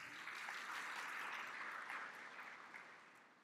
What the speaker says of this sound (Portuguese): A todos vocês, os nossos agradecimentos e a nossa saudação com a salva de palmas.